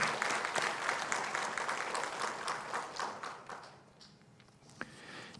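A church congregation applauds during a Thanksgiving Sunday worship service, a dense wash of many hands clapping that gradually thins out and fades, with a few last scattered claps near the end.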